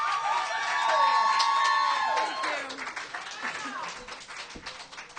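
An open mic audience claps and cheers loudly and steadily for two performers, with whoops rising over the applause before it slowly thins out toward the end.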